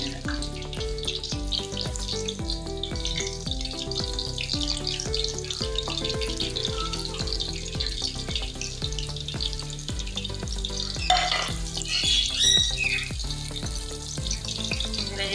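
Sweet pooris fry in hot oil with a dense, continuous crackling sizzle that stays loud and close, growing briefly busier near the end.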